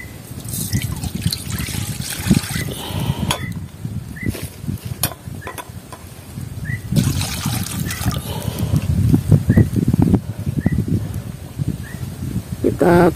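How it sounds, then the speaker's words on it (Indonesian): Water trickles and splashes into a cooking pot for vegetable soup, close and fairly loud, with intermittent dripping and some handling noise. A voice talks at times. "Kita kasih air."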